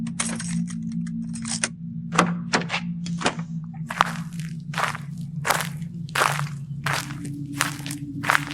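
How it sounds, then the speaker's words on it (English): Boots crunch across the ground in the video game Tealerland, a steady series of distinct, close footsteps over a low humming ambient bed. "Crunching sound of your boots against the ground."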